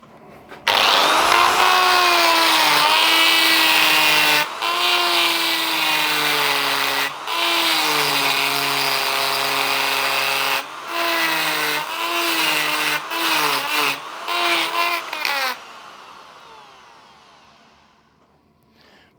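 Carbide burr cutter grinding metal, a loud high-pitched whine with shifting tone as the burr bites, broken by several short pauses and bursts before winding down to quiet.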